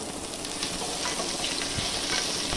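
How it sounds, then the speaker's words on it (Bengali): Boiled potatoes dropped into hot oil for a Bengali alur dom sizzle and crackle steadily and close up, a dense continuous frying hiss with occasional sharper pops and no talking. "এরপর সেদ্ধ করে রাখা আলুগুলো তেলে ছেড়ে দিতে হবে।"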